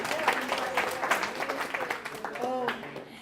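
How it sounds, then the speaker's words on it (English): A workshop audience bursts into applause, a brief wash of clapping mixed with voices and chatter, moderately loud and fairly close. "let's give Mercy and all of you a big round of applause"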